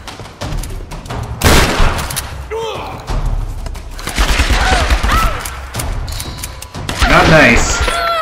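Tomb Raider gameplay gunfire: bursts of loud shots and booming impacts recur across the clip, close and heavy, alongside in-game cries and other game sounds.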